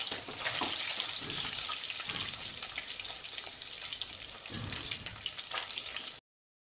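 Rohu fish frying in hot oil gives a loud, continuous close-up hiss with occasional soft low bubbling pops, holding steady for about six seconds before cutting off abruptly.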